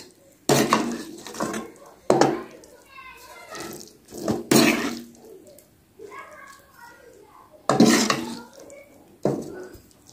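Masala fried bitter gourd being served from a cooking pot on a just-switched-off stove, with metal spoon scrapes and clanks against the pot in irregular bursts, a voice talking between them.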